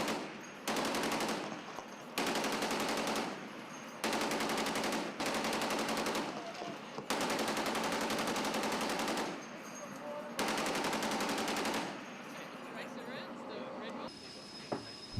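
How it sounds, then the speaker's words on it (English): Navy sailors at action stations fire .50 and .40 caliber machine guns aboard an Australian warship in long, loud sustained bursts separated by short pauses, the rapid rounds running close and harsh over several seconds at a time. "Sailors at action stations clad in bulletproof vest fired rounds from .50 and .40 caliber guns."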